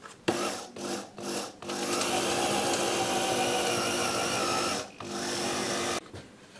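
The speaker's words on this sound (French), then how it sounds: "je vais pointer les emplacements où je vais faire mes percements" A power drill bores holes in hammered copper for pipe fittings, giving a steady close whine with short bursts at first and then one long continuous run before it stops.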